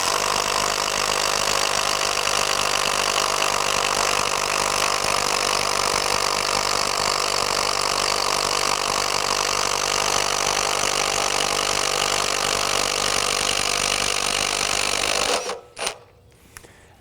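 A Makita XGT 40V max brushless 4-speed impact driver, model GDT01, runs near the microphone as a loud, steady, high-pitched whine and rapid hammering, then cuts off abruptly near the end with a brief rattle.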